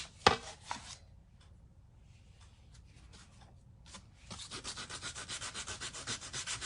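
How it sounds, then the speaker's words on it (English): Close, steady sanding of a wooden watermelon door hanger, starting with scattered rubs and taps, then settling into a rhythmic back-and-forth scrubbing with no talk. "I better sand it."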